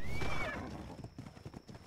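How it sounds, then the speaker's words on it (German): A horse in the ARK Ragnarok survival video game lets out a loud, close whinny that rises and fades, followed by a run of soft hoof clops under a busy game background. "Hippo will Pferde verpaaren"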